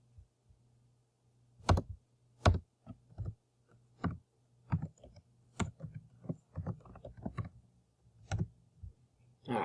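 Keys on a computer keyboard tapped in short irregular bursts of close, crisp clicks, with quiet pauses between keystrokes and a low steady hum underneath.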